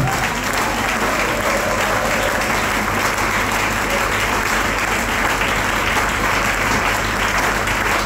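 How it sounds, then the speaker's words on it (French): A large audience at a prayer marathon bursts into loud, sustained applause, dense clapping filling the room evenly from start to finish with no pause. "Je pensais que tout le monde devait acclamer."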